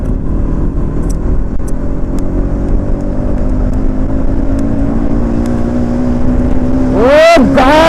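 A motorcycle, a Bajaj NS200 or Yamaha R15 V4, cruises at speed on an open road under a steady engine drone and wind rush, with a sharp rising whine near the end.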